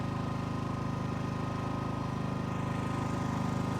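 An air compressor from a low-profile detailing setup runs with a steady close mechanical drone and fast regular pulsing throughout, loud and unbroken.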